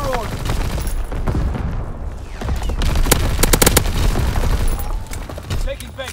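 Artillery strike in Call of Duty: WWII hitting its target during a domination match on the Shipment 1944 map, a burst of loud, rapid booming blasts and gunfire layered together over several seconds, with voices calling out through the barrage.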